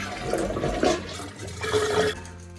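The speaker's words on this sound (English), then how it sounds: "we're going to get some of this water out of here by flushing it" A household toilet being flushed to drain water from the tank before a fill valve is replaced, a close, loud rushing gurgle lasting a couple of seconds that then trails off.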